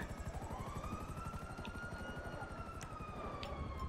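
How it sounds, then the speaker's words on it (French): Helicopter in a video game with a steady, loud rotor chop and turbine whine running continuously throughout, with faint electronic beeps and game sounds layered on top. "Garde l'hélico, hein, ne le pose pas."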